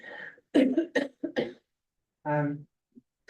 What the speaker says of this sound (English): I'm back with a cough, but it's not COVID